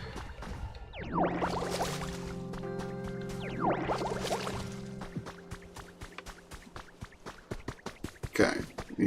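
In the Pokemon Pokopia video game, plants get watered with splashy, pouring water effects in two bursts, followed by a string of light dripping plinks and a final short splash, alongside soft game music tones.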